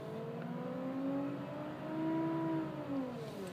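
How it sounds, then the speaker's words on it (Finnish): A steady, droning BMW E38 M73B54 engine hum with a wavering tonal whine that rises and falls slightly, continuous and fairly close, with no talking. "Sellaista ihmeen jurnutusta, niin kuin naapuri"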